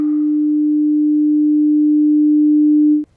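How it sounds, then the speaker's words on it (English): A steady 300 Hz sine tone with inverted polarity holds at a constant loud level for about three seconds, then cuts off abruptly, leaving near silence. "we have a 300 Hz sine tone that begins with a positive"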